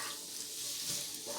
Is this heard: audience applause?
no